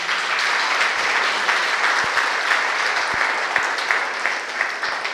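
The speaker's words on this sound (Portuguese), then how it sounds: "Por favor, uma salva de palmas para eles." Audience members at a public-order talk on the rights of elderly people in Volta Redonda give a sustained round of applause, a steady even patter of many hands throughout with no voices over it.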